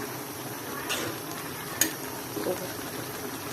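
Pulao at a rolling boil in a pot is stirred, with a low steady bubbling hiss and a few light scrapes and clinks of the spoon against the pot, close and quiet, with a voice heard faintly.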